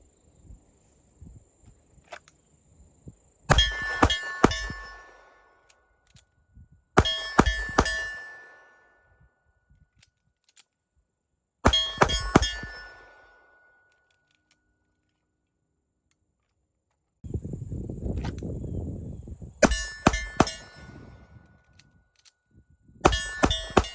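A custom Springfield Prodigy DS 1911 pistol fired at steel targets during reload drills: quick strings of shots with ringing metallic hits, separated by pauses for reloading, plus a brief low rumble near the end.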